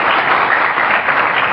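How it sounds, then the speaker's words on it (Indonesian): Loud, dense audience applause at a religious lecture, a steady close wash of clapping with no gaps. "Tepuk tangan untuk Pak Sucipto."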